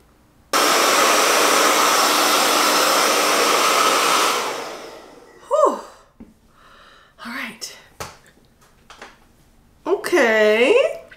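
A hair dryer with a diffuser drying curly hair roars loud and steady nearby for about four seconds, then winds down and stops, followed by someone speaking.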